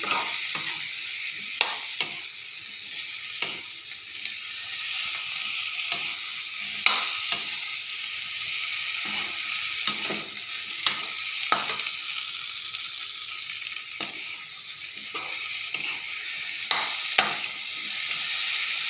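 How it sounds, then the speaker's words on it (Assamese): Potatoes fry in a pan for egg and potato dum, with a steady, bright sizzle throughout and occasional scraping stirs and clinks of a utensil, close and fairly loud, no talking. "আলুখিনি ফ্ৰাই হ'বৰ বাবে অলপ টাইম এনেকৈ ৰাখি দিম।"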